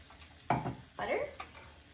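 Butter hits a hot frying pan during veggie fried rice cooking, giving two loud, close bursts of sizzling with stirring, the second followed by a softer crackle before the sound settles.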